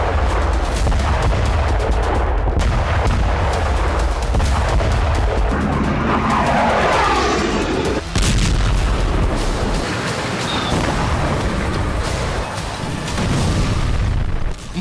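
Ukrainian artillery strikes in Russia's Kursk region thunder as a dense, continuous barrage of booms and blasts, loud and sustained throughout with no voices.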